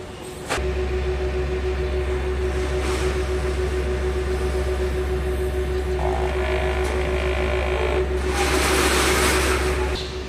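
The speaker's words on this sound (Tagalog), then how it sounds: "Tayo naman mag-head clean." A printer runs a print-head cleaning cycle, giving a steady low motor hum with a faint whine for about ten seconds, plus a few light mechanical clicks and a brief whirring near the end, heard nearby without talk.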